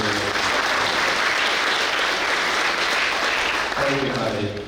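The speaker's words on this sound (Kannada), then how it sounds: "ಈಗ ಚಪ್ಪಾಳೆ" An audience at an annual church feast near Jog Falls applauds in a dense, loud, continuous wave of clapping. It runs the whole way through and eases slightly near the end.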